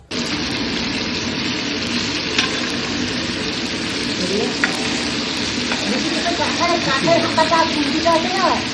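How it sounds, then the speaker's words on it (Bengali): Pieces of chicken sizzle steadily in a hot pan, a loud continuous frying hiss throughout with faint voices murmuring toward the end. "এখানে চিকেনটা ভাজলাম, তাও এটা মানে জাস্ট কিছুটা ভেজেছি"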